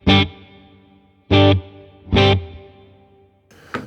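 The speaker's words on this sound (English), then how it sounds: "I'm going to go to reverb, hall large. Let's have a listen to that." Three strummed guitar chords through a Fractal AM4 on a large hall reverb, each ringing out into a long, spacious tail, followed by a quick higher pick at the end.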